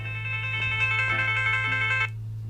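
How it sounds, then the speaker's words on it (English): A phone alarm rings out loud and close as a steady electronic ringtone with a bright, repeating melodic pattern for about two seconds, then cuts off, over a low constant hum. "That was my phone alarm."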